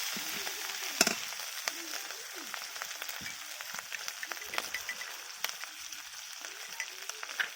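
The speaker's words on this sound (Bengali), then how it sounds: "স্বাদ মতো নুন দিয়ে দিলাম, ভালো করে নাড়াচাড়া করে নিচ্ছি" Lata fish fries in oil with salt being stirred in, a steady soft sizzle with scattered small pops and scraping as the pan is stirred, fairly quiet and continuous throughout.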